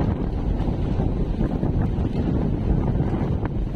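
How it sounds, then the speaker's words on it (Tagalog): Strong wind buffets the microphone at Dinahican Port, a continuous low roaring rumble with no pauses, heard alone without speech. "Malakas yung hangin ngayon"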